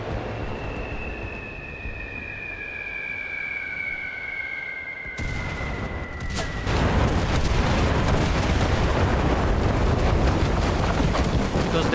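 Bombing-run explosions in the Enlisted game: a high whistling drone fades, then a sudden heavy blast gives way to a dense, sustained rumble of detonations and debris, loud and close.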